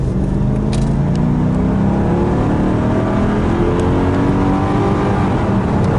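A 2000-2002 Mercedes CLK accelerates hard after a fuel pump and fuel filter replacement, its engine note climbing through rising gears, loud and close throughout with no voices.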